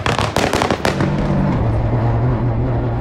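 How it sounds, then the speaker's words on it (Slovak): Rapid loud pops and crackles of the anti-lag system backfiring into the exhaust of a 2020 Peugeot 208 Rally4 car, a burst of several bangs settling into a rough engine rumble. "keď uberiem, budete počuť strieľanie antilagu do výfuku"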